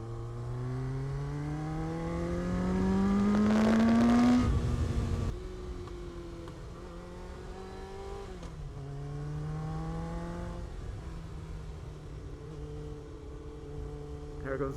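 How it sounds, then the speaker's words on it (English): A Yamaha FZR 1000 motorcycle revs repeatedly up and down, its airbox induction noise a close, loud rising and falling engine drone with a long rev early on and shorter blips after. "I want to get some induction noise and find out what's exactly going on there"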